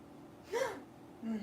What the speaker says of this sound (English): Sorry, I've been gasping when I see visions now.